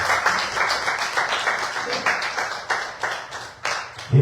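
A church congregation claps together in a fairly steady, rhythmic beat for Jesus, the claps close and loud, running continuously with a slight drift in timing and a thump at the end.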